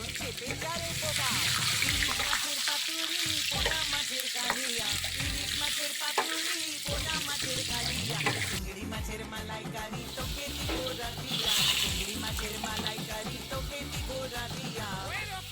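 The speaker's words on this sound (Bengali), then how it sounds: "আলুগুলোকে ভেজে নেব।" Cut potatoes, lightly salted, sizzle and crackle steadily in hot oil in a pan for a curry, a dense continuous frying hiss close up with occasional stirring, and a voice talking over it.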